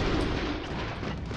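In the side-scrolling action game Broforce, dense gunfire and explosions roar in a loud, continuous burst, with booming blasts layered over rapid shots and no pause.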